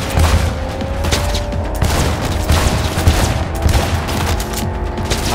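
Loud, continuous automatic gunfire in the video game Cyberpunk 2077, shots fired at a car's driver, with dense rapid bursts and booming impacts running throughout.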